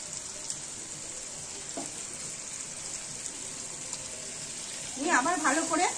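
Chicken pieces drop one at a time into a pan of browned spiced masala for chicken do-pyaza, and a loud sizzle bursts up near the end after a quieter stretch of low frying hiss.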